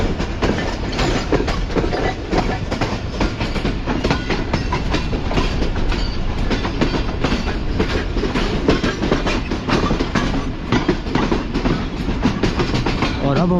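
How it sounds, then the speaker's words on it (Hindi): Karachi Express rolling on in winter after pulling away from Kotri junction, a dense, steady rumble of carriages with rhythmic clickety-clack of wheels over rail joints, loud and continuous throughout, no talking. "जो कोठी जंक्शन को ट्रेन ने अलविदा कह दिया है फाइनली।"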